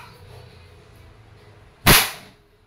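A Crosman 1322 multipump airgun, pumped ten times, fires a single sharp, loud crack over a quiet background, with a short bright tail dying away.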